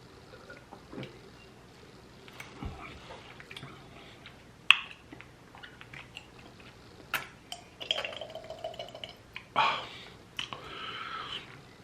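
Someone sips Monster Aussie Lemonade energy drink from a can, with faint slurps, a gulp and small liquid sounds scattered among quiet handling noises and short bursts of clatter, close to the microphone and with no talk.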